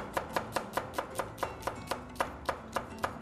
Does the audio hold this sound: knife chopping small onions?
yes